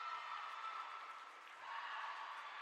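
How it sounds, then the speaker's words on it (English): Cougars cheerleading squad cheering on the sideline and mat at an A&T Caldwell game, a steady wash of distant crowd noise and cheering that stays fairly level throughout. "The Cougars cheering again on that sideline and on that mat."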